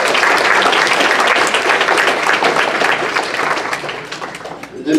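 Audience at a grassroots awards event applauds volunteers with a loud, dense wash of clapping that holds for several seconds before tapering slightly.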